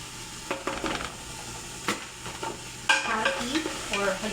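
Tomato paste frying in a pan for macaroni, stirred with a utensil: soft sizzling under intermittent scraping and clinking strokes, growing busier toward the end.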